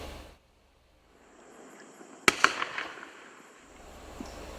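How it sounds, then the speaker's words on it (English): Winda Skadoosh 500 gram firework cake fires a distant sharp crack followed by a few quick popping breaks, faint against a quiet outdoor background hiss. "This 500 gram has the big, loud breaks you would expect from a Winda 12-shot cake."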